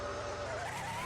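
A Mercedes W11 Formula 1 car accelerates hard down a straight in a drag-race video game, its engine note climbing steadily in pitch, loud and continuous, with no voices.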